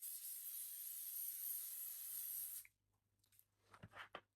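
Setting spray hisses out in one continuous, fairly faint, airy burst for about two and a half seconds. Soft rustling and handling noises follow after it stops.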